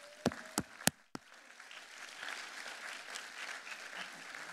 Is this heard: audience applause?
yes